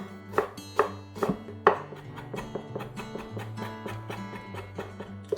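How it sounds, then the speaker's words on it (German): Ginger being chopped finely with a knife on a cutting board for a Chinese chicken salad, a string of crisp, uneven taps coming fast, with a few louder strokes early on and quicker, lighter ones later. "Ingwer auch fein hacken."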